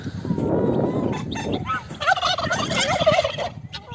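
Male turkeys gobble in a farmyard flock, several loud warbling calls overlapping and rising in bursts, with clucking and low farmyard noise beneath, close and busy throughout.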